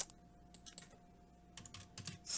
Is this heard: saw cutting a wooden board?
no